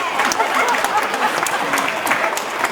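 Sustained applause from a crowd at a Navajo Tribal Utility Authority gathering, a dense steady wash of many hands clapping at even loudness throughout.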